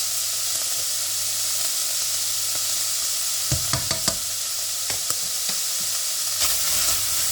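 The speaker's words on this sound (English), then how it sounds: "Stir that in. Putting all this on quite a high heat." Tomato puree being stirred into a pan over high heat, a steady close sizzle with scattered scraping clicks from the stirring utensil, no voices.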